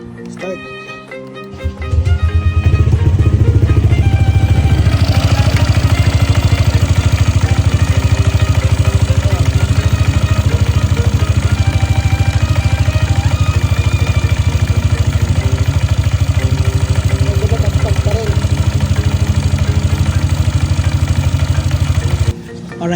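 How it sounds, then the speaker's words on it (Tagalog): Motorcycle with a full JVT CVT setup and a 1mm CRP washer, started and left running: a loud, steady engine idle with constant clatter that holds for about twenty seconds before cutting off. "Start natin yung motor."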